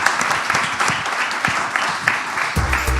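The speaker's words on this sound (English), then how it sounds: "please join me in applauding our speakers and the audience for this" An audience at a policy forum on the Koreas applauds the speakers, a short burst of continuous group clapping that runs steadily for a few seconds before ending in a low rustle.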